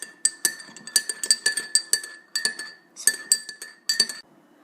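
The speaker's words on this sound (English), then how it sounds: "so add your creamer and stir it in." A spoon clinks repeatedly against the inside of a coffee mug while creamer is stirred in, bright close chimes in quick irregular bursts with a short pause midway before trailing off.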